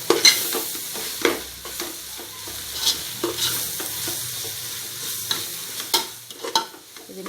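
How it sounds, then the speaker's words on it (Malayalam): A spoon stirs ground coriander and garam masala into sizzling biryani masala in a pan, with repeated scraping strokes and sharp clacks against the pan over steady frying hiss, close and fairly loud. "എല്ലാം കൂടെ നമുക്ക് നല്ലതുപോലെ ഒന്ന് ഇളക്കി ചേർക്കാം"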